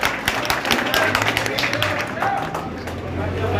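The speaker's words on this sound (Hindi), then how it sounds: "एक बार जोरदार तालियों के साथ स्वागत" An audience at a BJP political rally in a vegetable market in Mahendragarh applauds to welcome a speaker, a dense continuous patter of clapping with crowd murmur running throughout.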